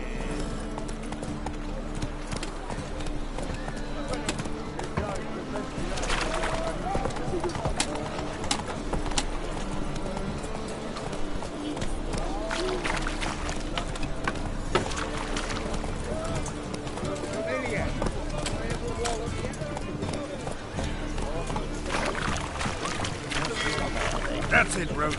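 Hoofbeats of Roach, the horse in The Witcher 3, clip-clopping in a steady trotting rhythm amid game ambience with birds, while voices talk over it.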